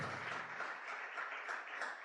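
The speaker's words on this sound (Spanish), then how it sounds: "¿Por qué no le damos otro fuerte aplauso a Jesús?" Church congregation applauding for Jesus, a soft, distant wash of many hands clapping continuously, faint and evenly sustained with no speech over it.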